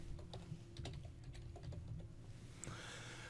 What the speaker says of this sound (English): let's type in the name that we want